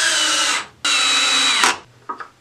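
Power drill boring a pilot hole through wood for a spice shelf: a loud, steady whine in two bursts separated by a brief pause, then the motor winds down, with a few small knocks afterwards.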